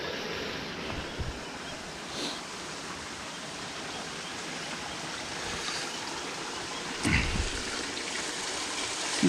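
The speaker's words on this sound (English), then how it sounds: "more opportunity for you to hear the water and see the water" A mountain stream flows over rocks with a continuous, even rush of water that stays fairly soft and steady, with only small surges, and no voices.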